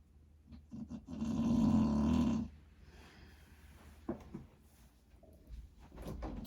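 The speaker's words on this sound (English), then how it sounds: "You look really comfortable, but the snoring" One long, rumbling snore from a sleeper close by swells for about a second and a half. Quieter breathing and small snorts follow, with no talking.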